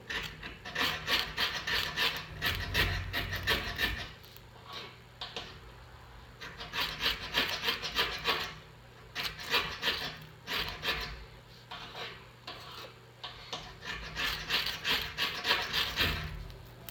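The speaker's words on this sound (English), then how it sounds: "I think what I need to do is scrape off some of this so it's a little bit more powdery." Scraping shavings off a Doan's magnesium fire-starter block, a rough raspy rubbing in repeated bursts of strokes with short pauses between them, close and fairly clear.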